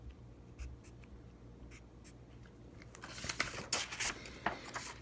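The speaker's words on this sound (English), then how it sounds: "I'm going to write them here and here." A pen writes numbers by hand on paper while solving a quadratic equation. The scratchy strokes are faint and sparse at first, then grow denser and louder in quick bursts, with no talk.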